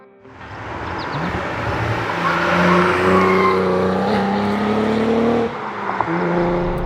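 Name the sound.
Cadillac CT4-V Blackwing engine during no-lift shift driving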